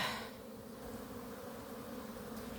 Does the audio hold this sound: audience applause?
no